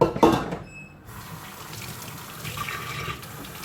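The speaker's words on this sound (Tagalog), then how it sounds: "So the water will all go down" Water drains from washed chicken in a kitchen sink: a brief splash and gurgle at first, then a softer, steady trickle running away.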